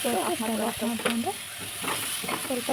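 Dry masala lightly frying in a pan for fish curry, a steady close sizzle with soft stirring scrapes running throughout.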